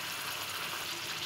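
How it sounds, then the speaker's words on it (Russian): Kidneys fry with garlic in a pan, a steady, dense sizzle with a crackling hiss that runs close and unbroken throughout. "сейчас поджарю еще почки"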